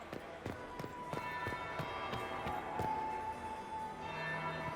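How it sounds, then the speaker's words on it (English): A church bell tolls in a Dragon Age: Inquisition game scene, with a series of repeated metallic strikes ringing out over a lingering tone and soft ambient background. "That would be the second bell."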